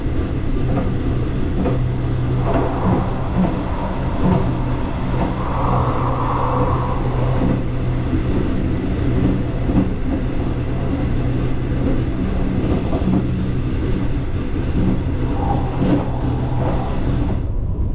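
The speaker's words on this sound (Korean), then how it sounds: "대구광역시를 벗어나기 전 열차는 경부선 서대구역을 통과합니다." Mugunghwa train built by Daewoo Heavy Industries in 1997, with wood-grain late-type coaches, passing Seodaegu station on the Gyeongbu Line, heard inside the carriage as a steady heavy rumble with rail clatter and occasional squeals, loud and continuous.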